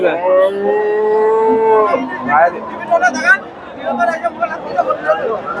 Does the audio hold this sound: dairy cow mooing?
yes